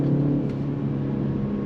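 A BMW 330i engine with artificially pumped-in sound hums in a brief, steady, moderate drone from inside the car, with no talking.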